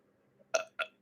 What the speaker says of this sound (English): Coffee burps just aren't real.